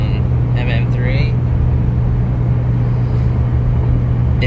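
A 2004 Cummins diesel truck running an MM3 tow tune pulls with a steady low engine drone, and someone talks over it.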